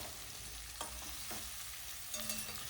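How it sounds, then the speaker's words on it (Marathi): Stuffed okra (bharli bhendi) with leftover masala being gently sautéed in a pan over low heat, a soft continuous frying sizzle with a few light stirring scrapes, close and quiet, no voices. "3 ते 4 मिनटं मंद आचेवर असंच त्याला हलक्या हाताने परतून घ्यायचंय."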